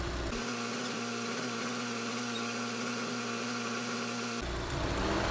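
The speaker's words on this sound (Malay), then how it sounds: "So, kita dah boleh start engine." A Proton Exora CFE turbo car engine idles with a constant low hum and hiss, unchanging throughout, with a brief rougher rumble at start and end.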